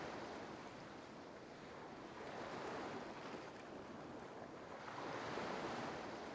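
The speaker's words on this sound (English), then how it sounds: "Can you hear the waves?" Ocean waves from the video game Wadanohara and the Great Blue Sea, a steady hissing wash of surf that swells into louder surges twice, with no voices.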